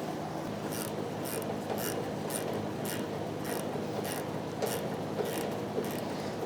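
Metallic ratcheting clicks repeat in an even series as a hose strap is tightened on a 2010-2013 Kia Soul fuel tank, close and steady throughout, with no one talking.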